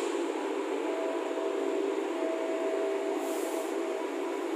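A KRL SF8 commuter train at an Indonesian railway station, heard as a steady broadband rumble with a faint tonal hum and a brief hiss partway through, constant in level and with no voices.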